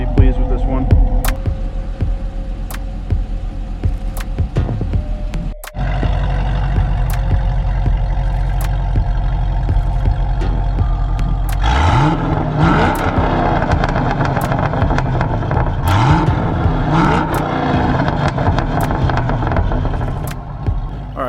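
A Chevrolet SS V8 running loud and close on a chassis dyno, a steady droning engine that climbs into a rising, rough rev sweep partway through and holds at high load to the end.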